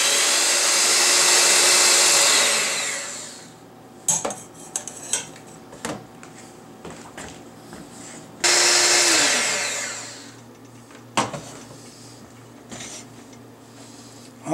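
Eggs for a shrimp omelet are whisked briskly in a bowl, a loud fast whirring rattle in two long bursts separated by softer clinks and taps of utensils.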